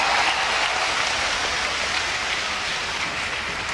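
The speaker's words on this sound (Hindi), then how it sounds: "और आपके हाथ की तालियां जरा हाथ उठाकर" Large crowd applauding at a public address for a spiritual leader in India, steady dense clapping throughout with no voices on top.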